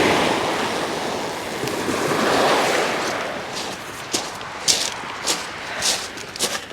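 Sea waves wash onto the shingle of Shoreham Beach with a broad surging hiss that swells and fades, followed by several sharper breaking splashes close by, with wind buffeting underneath.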